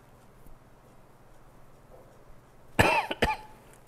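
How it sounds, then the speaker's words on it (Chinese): A person coughs twice in quick succession during a throat examination, loud and close against a quiet background. "来，嘴巴打开咳没有关系哈"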